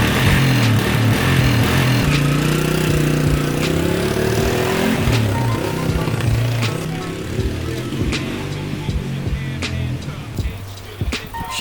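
A dirt bike engine idles roughly and loudly nearby, its throttle blipped again and again so the pitch rises and falls unevenly before the running begins to fade and sputter, with no speech.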